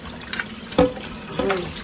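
Tap water runs into a kitchen sink while pork ribs are rinsed, a steady close splashing with a couple of sharper splashes as the meat is moved under the stream.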